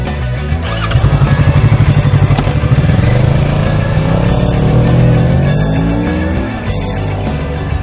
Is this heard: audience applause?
no